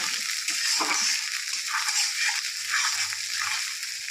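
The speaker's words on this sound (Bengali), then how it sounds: "যখনই মশলাটা কষাবেন গ্যাসের ওভেন আগুনটা একটু কমিয়ে নেবেন তাহলে কষানোটা ভালো হয়" Ground spice masala with turmeric and cumin powder is stir-fried in a pan over a lowered gas flame for an Ilish fish-head dish with taro greens, producing a continuous close sizzle with stirring scrapes.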